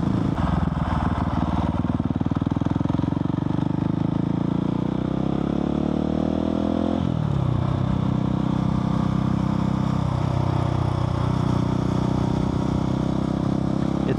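A Husqvarna 701 single-cylinder four-stroke motorcycle with an Arrow exhaust runs loud and close, its thumping engine note rising in pitch through revs, dropping after a shift, then climbing and easing again.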